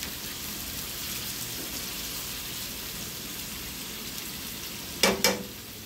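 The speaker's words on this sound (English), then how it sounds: "So we gonna fry up all these, you know? And cooking it, getting it and fry up and things." Rotini chicken pasta ingredients fry in a pan with a steady, soft sizzle throughout, broken near the end by two brief louder clatters of stirring.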